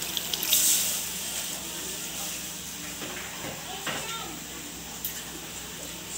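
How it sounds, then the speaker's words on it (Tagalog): Water is poured from a tap into a cooking pot for tuna sinigang, a soft steady hiss and trickle running throughout, with a few light clinks. "Maglagay na po tayo ng tubig."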